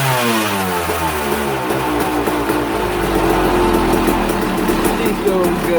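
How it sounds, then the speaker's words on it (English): A KTM 250SX XC two-stroke dirt bike engine after a top-end job, revved hard and held at high RPM close up, a loud sustained buzzing roar with rising tones. "I'm going to give it a couple good revs."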